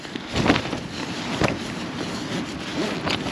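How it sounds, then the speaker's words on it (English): A tent flaps in strong wind at a wild camp in the Yorkshire Dales, with a constant roaring gust noise broken by several sharp flutters and snaps. "Tent's flapping like mad"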